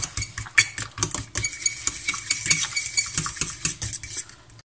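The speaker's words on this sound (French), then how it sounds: "Je rajoute ma gelée. Je mélange bien et je laisse refroidir." A spoon or whisk stirs gelatin into a mixture in a bowl, a quick series of clinking, scraping taps against the dish, irregular and close, with no talking.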